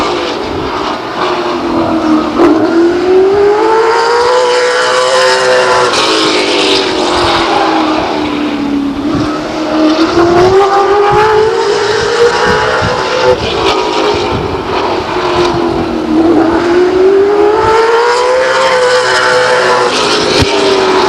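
Race cars lapping the Stockton 99 Speedway oval, a loud, continuous engine roar that climbs and falls in pitch as the cars accelerate and sweep through the turns, close and sustained with no break.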